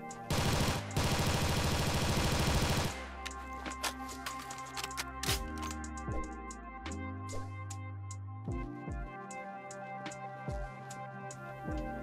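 Bursts of rapid automatic gunfire from a modded weapon in the Ravenfield shooter, a loud dense volley at first, then scattered single shots and clicks over a droning game background.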